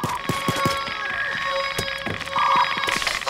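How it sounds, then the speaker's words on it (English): An alarm goes off during a Payday 2 heist, a steady electronic ringing tone running under busy game noise, footsteps and clatter throughout. "Damn it, that's the alarm."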